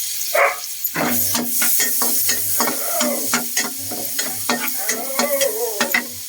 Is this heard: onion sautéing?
yes